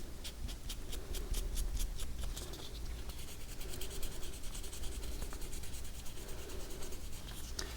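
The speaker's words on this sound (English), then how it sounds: "I want to polish a little bit more right there, so I'm going to bend the pad, just sort of get in that space" A bent polishing pad rubs steadily against thin jewelry wire while earrings are being made, giving a continuous close scratchy friction that runs the whole time with small rhythmic strokes and no talking.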